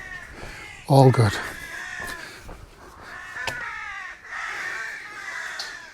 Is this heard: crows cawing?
yes